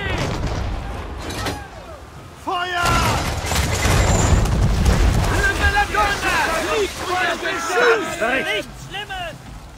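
Ship cannons firing in the Assassin's Creed 3 video game: heavy booming blasts at sea after a quiet start, with someone talking over the barrage.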